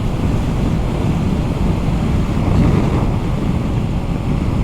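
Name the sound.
wind blowing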